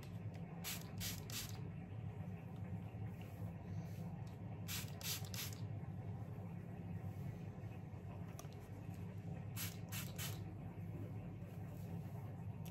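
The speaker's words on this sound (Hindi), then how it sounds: "ये ना मैं जब भी स्प्रे करती हूं ना" Rosemary water is sprayed onto the scalp with a spray bottle in short bursts of three quick hisses, repeated in clusters over a low, steady background hum.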